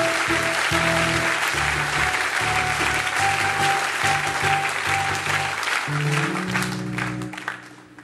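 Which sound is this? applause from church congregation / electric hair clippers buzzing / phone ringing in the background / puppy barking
applause from church congregation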